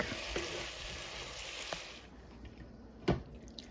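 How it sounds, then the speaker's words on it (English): Chickpea taco filling simmering in a pan while the lid goes on, a faint, steady frying hiss that drops away, followed by a single sharp clack of the cover near the end. "So I'm going to cover it up and let it simmer."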